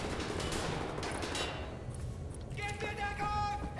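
Assault rifle fire in the shooter game Wolfenstein: The New Order, a dense burst of rapid shots up close that breaks off midway, followed by fainter game effects and a tonal hum.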